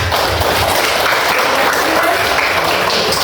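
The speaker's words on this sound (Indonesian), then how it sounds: "tepuk tangan untuk kelompok 1" A classroom group applauds group 1 after a presentation on cassava nutrition at a junior high school, steady dense clapping filling the room without a break.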